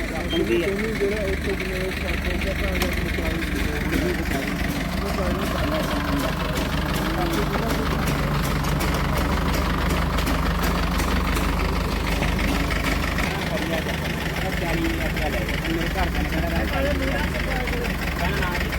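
Motorcycle engines idling together at a sale, a continuous low rumbling drone with steady ticking pulses, holding an even level throughout with background voices faintly mixed in.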